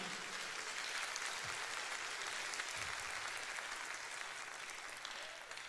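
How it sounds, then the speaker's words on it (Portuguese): Sustained applause from a church congregation fills the room in a dense, steady wash of clapping for the whole stretch, with a faint voice or two underneath. "Se é para Jesus, você pode aplaudir."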